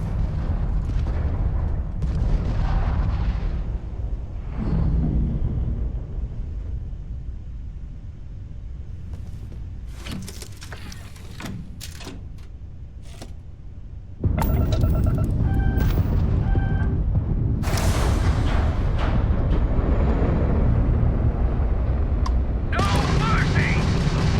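Space combat in Starfield with homing missiles and ship weapons firing: sustained loud roaring engine noise, scattered sharp blasts and bursts, a quieter stretch, then a heavy surge of explosive rumble.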